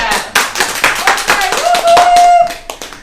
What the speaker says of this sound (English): get an amateur hand clap